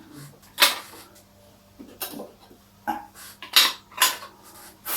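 Charcoal briquettes are dropped into a small camping stove, giving a series of sharp, hard clinks and clatters, about six distinct knocks spread over a few seconds, close and fairly quiet.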